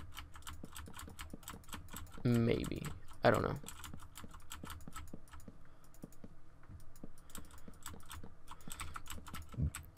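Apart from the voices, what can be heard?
typing on a noisy computer keyboard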